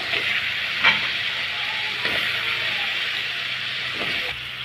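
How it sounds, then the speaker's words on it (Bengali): Washed cauliflower and potatoes drop into a spice mix frying in oil, giving a steady loud sizzle with a few brief stirring or dropping clicks and no talking. "এখন দিয়ে দিব ধুয়ে রাখা ফুলকপি আর আলুগুলো"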